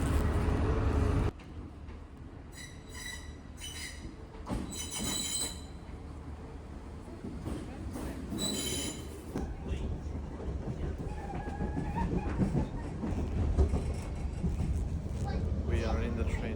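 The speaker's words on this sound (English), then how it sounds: "We are in the train now." Rumbling of an Irish train running on rails between Dublin and Howth, with wheel squeals and clatter, heard from inside, while people talk intermittently over it.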